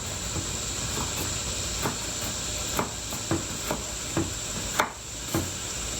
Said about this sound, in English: I'm really going to cook it fast and hot, and I'm going to keep moving it around, which is the stir fry part.